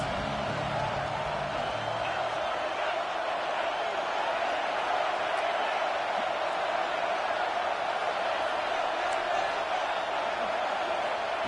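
Steady, dense stadium crowd roar at a Texas A&M vs Texas college football game during a big third-down play, loud and sustained throughout with no clear voices.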